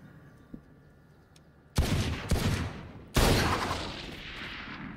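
Gunfire in the tactical shooter Valorant: three loud, close shots, the first two in quick succession and the third a moment later, each with a short decaying tail over a quiet background.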